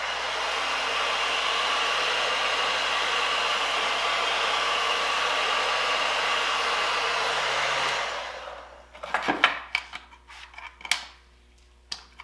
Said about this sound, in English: you can use the heat gun to heat it up a little bit so you can spread it easier